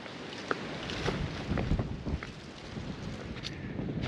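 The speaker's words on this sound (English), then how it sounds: "Windy, windy, windy though." Gusting wind on Brawley Mountain buffets the microphone with a low, rumbling roar that swells and fades, with occasional faint knocks in the background.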